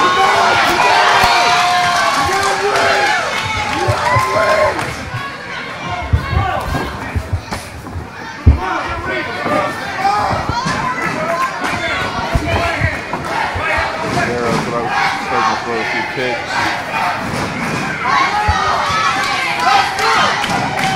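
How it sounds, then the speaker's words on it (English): Crowd cheering and shouting loudly throughout a live MMA fight at the All Sports Arena, with a steady roar of voices, scattered yells and occasional thuds, while an announcer talks over it. "big cheering section for Alex Martinez out here tonight."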